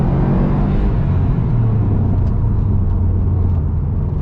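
A 2019 Subaru STI Type RA engine accelerates with a loud, steady low rumble and rising drone close by, continuous throughout with no talk.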